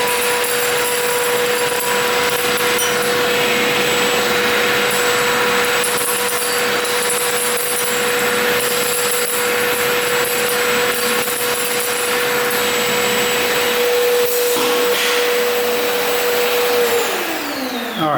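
Milwaukee M18 cordless vacuum running steadily with a loud whine and a constant tone, rattling as it picks up debris and drops it again, then spinning down at the end.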